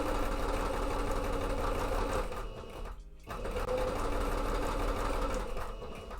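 A sewing machine stitches a cape mock-up in a steady, loud, continuous whir, with one brief pause near the middle before the motor picks up again.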